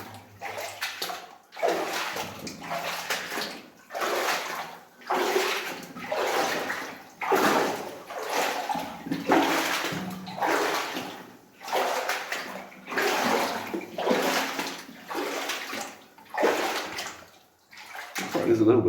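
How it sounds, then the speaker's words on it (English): Water flowing from a small seep at a North Island goldfield site in New Zealand, a gentle running wash that comes in repeated surges while a person talks over it almost constantly. "There's a little bit of flow in the water"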